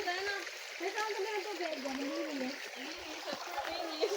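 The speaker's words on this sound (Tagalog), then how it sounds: "Ang batis." Flowing stream on a forest hike, water splashing and trickling softly in the background while people talk over it.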